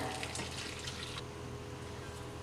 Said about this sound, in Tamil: இதில் நம்ம இந்த தண்ணியை பன்னீரை ஃபில்டர் பண்ணிடலாம்.